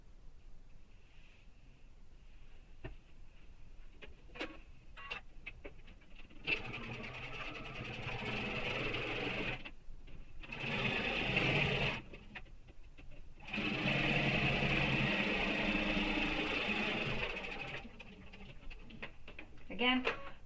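A sewing machine stitches a backpack seam, running in two bursts around a 45-degree corner turn with pauses between, close and steady, while a person talks over parts of it.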